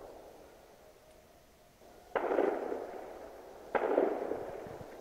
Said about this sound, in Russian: О, еще раз стрельнул.